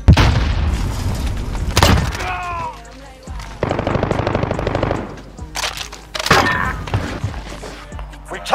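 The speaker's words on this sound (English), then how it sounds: "he's gonna die to a grenade then" A grenade explodes during a Call of Duty: Black Ops Cold War search-and-destroy match, giving a couple of loud, sharp booms amid rattling machine-gun bursts and other in-game effects, close and intense.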